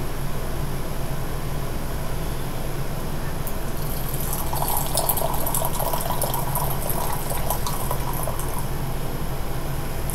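Hot water poured steadily to flash steep aged 2006 white tea, a continuous close splashing hiss that brightens midway as the vessel fills.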